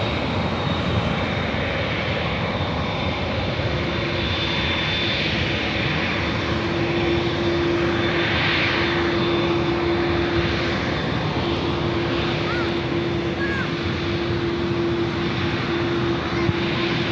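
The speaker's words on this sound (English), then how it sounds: "the Dreamliner heading back to Amsterdam" Boeing Dreamliner jet airliner departing for Amsterdam, a continuous loud engine roar with a steady tonal whine running through the middle, no talk over it.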